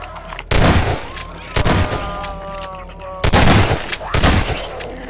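Gunfire in the game Garry's Mod: several loud, sharp shot bursts at irregular intervals, mixed with chatter and other game sounds.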